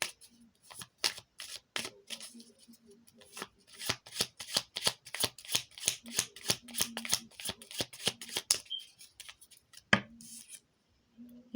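Tarot cards being shuffled by hand in quick rhythmic bursts of crisp riffling and flicking, close and fairly quiet, with brief pauses between runs and no talk.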